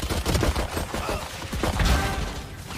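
Rapid bursts of gunfire from the shooter game Valorant crackle densely and loudly, overlapping shots packed together almost without pause across the whole stretch.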